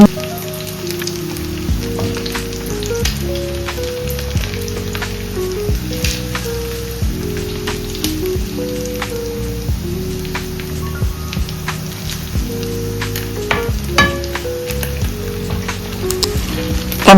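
Chicken 65 pieces deep-frying in hot oil, a loud continuous sizzle and crackle with music playing underneath throughout.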